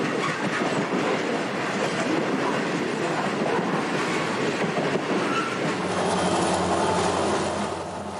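An empty Union Pacific coal train rolls past on a line in Nebraska's Powder River coal route, a loud continuous rumble of wheels with clickety-clack of cars and faint squealing, steady from start to finish.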